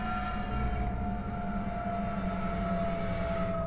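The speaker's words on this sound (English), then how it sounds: "That's an aeroplane." An aeroplane drones overhead in a video game, a loud, sustained engine hum with steady tones that runs unbroken for several seconds.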